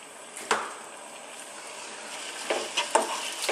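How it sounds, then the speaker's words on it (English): Garlic and ginger paste with fresh chili fries gently in a pan over medium heat, giving a soft continuous sizzle with a few brief louder stirring scrapes near the start and end. "on a medium heat, just want to fry these around, kind of gently"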